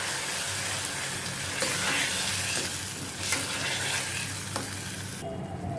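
Crushed tomato being stirred into onions in a pan for chana dal fry, giving a steady close sizzle and frying hiss with scraping stir sounds throughout, ending in a brief quieter moment.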